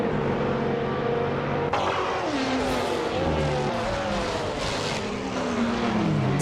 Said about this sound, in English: Leonard is driving a Lamborghini Huracan GT3